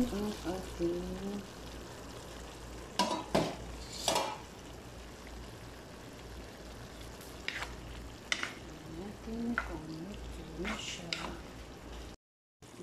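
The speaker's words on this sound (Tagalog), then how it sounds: "ginisang zucchini na may chicken" Zucchini and chicken sauté in a pan for a home-cooked lunch, giving a soft continuous sizzle broken by a few sharp clinks and stirring scrapes, with a voice heard faintly under the cooking.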